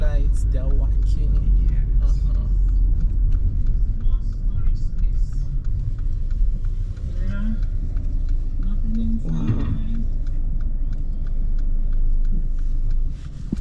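Car driving through city traffic in Cape Town, South Africa, with a steady loud engine and road rumble heard from inside the vehicle throughout, and people talking over it.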